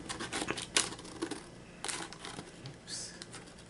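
Scissors cutting junk mail paper, a quick series of close crisp snips and paper rustles, with faint talk in the background.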